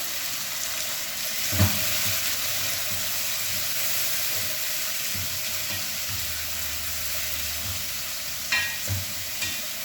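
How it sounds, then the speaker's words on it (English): Capsicum, garlic and ginger frying in a pan give a steady sizzle, with a few soft scrapes as they are stirred, at moderate level and no talking. "Then we're going to stir."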